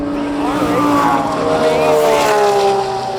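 Race cars lapping a circuit during track practice, engines howling and shifting pitch as they pass at mid distance, a sustained loud roar with rising and falling tones and faint voices.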